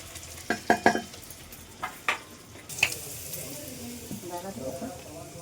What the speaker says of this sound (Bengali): ফিশ কচুরি এই যে বেলে বেলে এক একটা করে ভাজছি